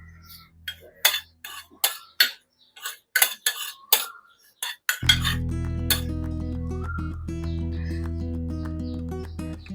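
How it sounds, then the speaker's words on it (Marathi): A spoon clinks and scrapes against a bowl while chilli and curry leaves are mixed into poha, a series of sharp separate taps at first, followed by a steady hum with no voices. "मिक्स करून घेऊया आता हे सगळं."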